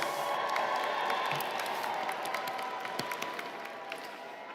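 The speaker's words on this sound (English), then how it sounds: "give them a hoot, give them a round of applause." A graduation ceremony audience in a large hall claps and cheers steadily, with scattered whoops and dense overlapping clapping that stays loud and gradually eases off toward the end.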